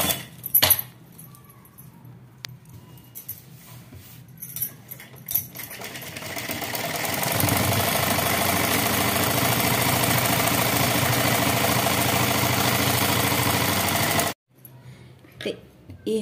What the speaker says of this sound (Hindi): अब इसके ऊपर से हम सिलाई डालेंगे।